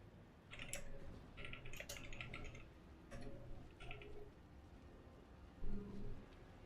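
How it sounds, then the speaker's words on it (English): Close computer keyboard typing, irregular bursts of sharp key clicks with short pauses between, fairly quiet, no talk. "I love how you're typing this in the chat too"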